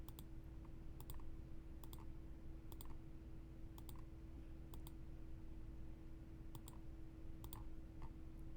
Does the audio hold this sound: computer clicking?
yes